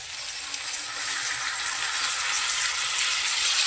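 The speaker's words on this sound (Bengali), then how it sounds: "এই মশলাটাকে দিয়ে দিলাম। একটু কষানো হবে।" Spice masala fries in a pan for a dal-fritter curry, a steady close sizzling hiss holding at an even level from start to end.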